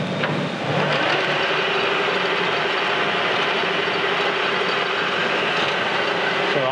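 A metal lathe turns a cross feed screw while the tool faces down its backside, giving a steady, loud grinding and whirring cut with a faint rhythmic clatter that holds evenly throughout with no talk.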